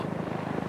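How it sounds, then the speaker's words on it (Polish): Helicopter rotors chop the air as a short sound effect in an audiobook, a brief, faint, steady pulsing thrum. "Wirniki helikoptera znów przemieliły powietrze."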